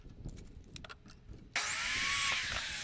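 A power saw cuts a 17-inch wooden hinge for a folding table, starting abruptly after some light handling noises and then running as a loud, steady, high whine close by.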